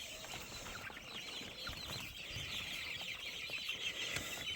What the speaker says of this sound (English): a rooster hogging the damn heater system.